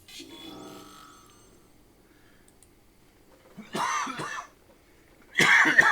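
Two separate harsh coughs sound close by, each a short burst, following a faint electronic tone at the start.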